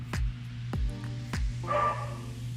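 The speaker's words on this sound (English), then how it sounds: "That's my dog, say hi to her." A dog barks three times in quick succession, loud and close, followed by a brief higher whine.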